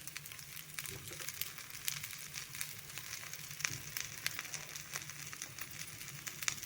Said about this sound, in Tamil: கொஞ்சமாக தோசை மேலே அப்படியே எண்ணெய் ஊற்றிக்கோங்க.